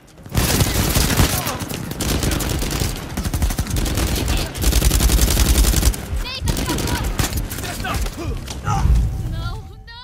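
Sustained heavy gunfire in Uncharted 4, dense automatic bursts and single shots crackling almost continuously at close range, with someone talking over the barrage in places.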